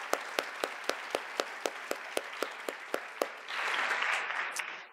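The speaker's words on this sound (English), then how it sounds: "let's have a round of applause for President Call" Audience applause at a campus common read event honoring President Call, beginning as a few distinct, evenly spaced claps before swelling into a dense, sustained wash of clapping near the end.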